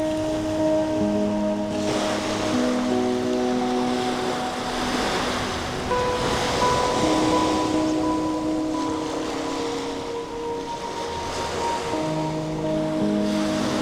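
Gentle ocean waves wash steadily onto the soft black sand of Bermejo Beach, Tenerife, a continuous surf wash with light wind, with some steady tonal hum layered over it and no voices.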